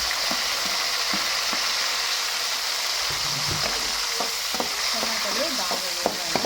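Tomatoes sizzling in a hot pan while being stirred, a loud steady frying hiss with scraping and clinking taps of a spoon against the pan, no talk.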